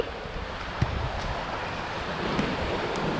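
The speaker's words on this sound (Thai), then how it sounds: "ลมแรงด้วยวันนี้ย" Strong wind gusts across an island coast, a steady loud roar of rushing air and microphone buffeting with surf-like wash beneath, with no voices.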